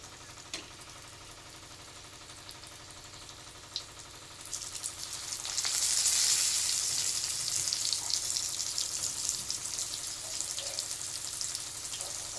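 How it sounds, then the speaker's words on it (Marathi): Stuffed bitter gourd placed on a hot oiled griddle: quiet crackle at first with a couple of soft knocks, then the sizzle swells sharply and holds as a steady close hiss of frying, no talk. "त्यानंतर आता हे भरलेले कारले आपण त्याच्यावर ठेवणार आहोत आणि त्यानंतर त्याला छान परतून घेणार आहोत."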